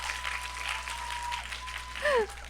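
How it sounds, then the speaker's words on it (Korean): An audience at a Korean film-event talk session applauds softly, a faint, even patter of clapping with voices over it and a brief tonal sound near the end. "박수를 한번 다시."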